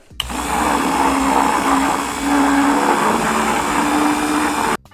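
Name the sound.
stirring protein shake in a cup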